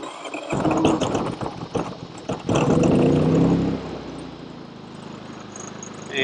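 A Predator 3500 generator starts up close by and roars briefly before settling into a quieter, steady running hum.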